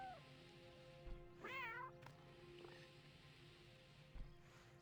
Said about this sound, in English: Makes me think my cat's in the house. She's whining. She wants attention.